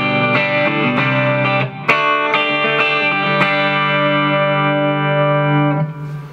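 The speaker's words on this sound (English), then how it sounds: "it'll sound just like a Fender Deluxe Reverb" Electric guitar played through a Blackstar ID amp voiced like a 6V6-powered Fender Deluxe Reverb: a series of clean, bright strummed and picked chords with slight overdrive and reverb, each attack ringing out and sustaining before fading at the end.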